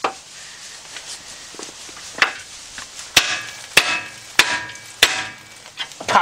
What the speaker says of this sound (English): You hit the spindle right here hard enough with a hammer that it shocks that joint out of there.